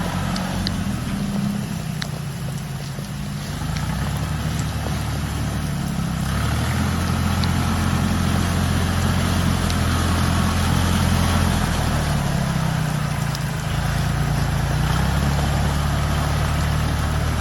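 A tractor engine runs steadily while spreading a load of rock on a wet, rainy site, its low droning rumble continuous and fairly loud throughout with no voices.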